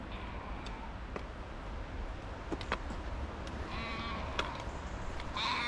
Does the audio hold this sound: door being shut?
no